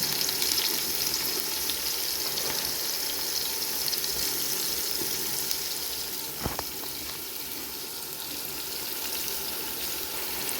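Onions and chillies with salt fry in a pan, a dense, even hiss of oil that carries on throughout, close and fairly loud, with one brief knock partway and no talking.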